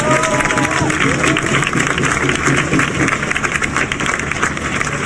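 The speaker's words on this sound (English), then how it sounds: "Let's give Dorian another round of applause." A crowd at a Black Lives Matter protest rally in Wisconsin applauds and cheers, sustained clapping with a few voices calling out over it, fairly loud and close throughout.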